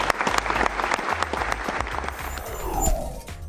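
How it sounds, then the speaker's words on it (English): An indoor audience gives a round of applause at a NASA event, dense clapping from many hands that holds steady and then thins out toward the end. "So let's give yourselves a round of applause."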